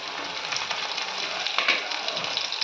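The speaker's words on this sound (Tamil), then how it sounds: "மஞ்சத்தூள் மிளகாத்தூள் இது எண்ணெயில் வதக்கிடுங்க" Turmeric and chili powder fry in hot oil for a fenugreek-seed gravy, a continuous bright sizzle and crackle, close and fairly even, with slight swells as the pan is stirred and no voices.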